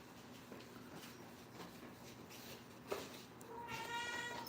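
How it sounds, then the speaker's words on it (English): A house cat meows faintly in an indoor room, with a soft cry rising above a quiet hiss of background noise. "tell your cat to shut"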